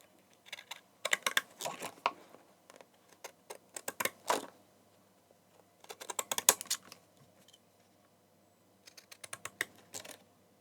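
Scissors cutting through card in a crafting session, producing clusters of crisp snipping clicks in short bursts separated by quiet pauses.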